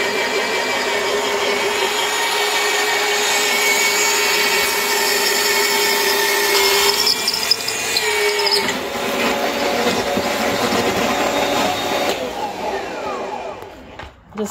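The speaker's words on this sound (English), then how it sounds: "This is the bump stop that we're drilling the two holes in right now" Power drill boring two 3/8-inch holes through a bump stop on a Peterbilt truck frame during a frame stretch, a loud steady whine running for most of the stretch, shifting pitch partway through before winding down at the end.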